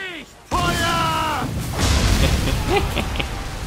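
Ship cannons boom in a naval battle in Assassin's Creed 3, a heavy blast followed by rumbling, rolling artillery and scattered impacts, with a voice talking over the gunfire.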